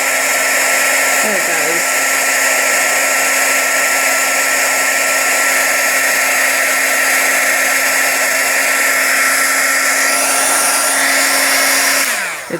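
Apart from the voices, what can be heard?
heat tool embossing stamped paper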